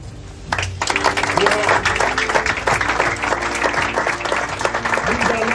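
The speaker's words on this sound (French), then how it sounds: "nous allons observer 1 minute, pas de silence, mais en applaudissant" A standing crowd at a party cadre training session in Kinshasa claps in place of a minute of silence, a sudden onset of dense, sustained applause with voices and background tones running underneath.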